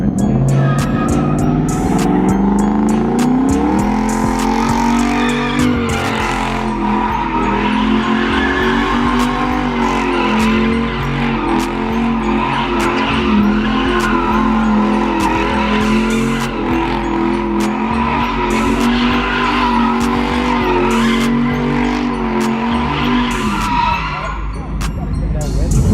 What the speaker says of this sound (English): Yo, he in the truck and he sliding.